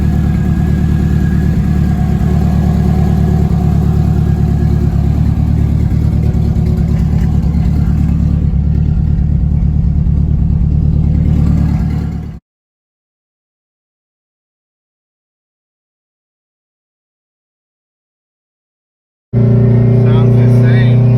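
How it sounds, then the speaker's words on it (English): A car engine pulling hard toward a 9100 RPM limiter, a loud, close, sustained roar that cuts off abruptly into several seconds of silence before the engine sound returns. "I still have the limiter set at 91, so engine sounds good"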